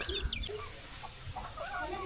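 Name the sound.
chickens clucking on a farm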